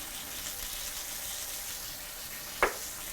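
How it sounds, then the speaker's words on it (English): Lemon fish sizzles in a hot pan with a steady, soft hiss, broken by one brief sharp crackle near the end. "I can hear that sizzle."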